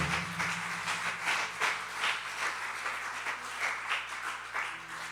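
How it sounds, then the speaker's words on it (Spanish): A church congregation claps together in sustained, moderately loud applause with a faint low hum beneath, no speech over it. "¿Cuánto le pueden dar un fuerte aplauso al Señor?"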